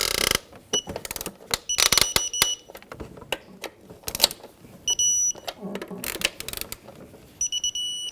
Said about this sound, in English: we're going to torque all 4 coil bolts to 105 inch-pounds